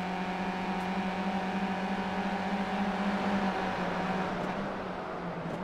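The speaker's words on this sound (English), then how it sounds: "Wait, I can hear a car behind him." A steady car engine drone from the iRacing racing game hums continuously at an even pitch, fairly loud, with no breaks and no voices.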